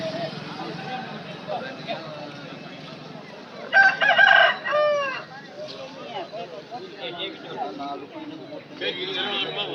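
A rooster crows loudly midway, with chickens clucking and fowl chattering around it, amid people talking in the background at a rooster market in Athani.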